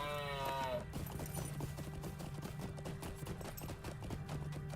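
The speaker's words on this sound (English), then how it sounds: "Alright, back up on our horse." Horse hooves clip-clopping in the Lord of the Rings Online video game, a steady rhythm of sharp, evenly spaced hoof beats at a mounted pace, starting after a brief tonal game cue and running over a faint background tone.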